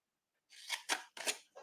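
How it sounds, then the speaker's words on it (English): Scissors snipping up the score lines of a paper star craft piece: four quick, crisp close-up cuts in a short rhythmic run, heard alone in a quiet room. "I just want to snip up the score lines here."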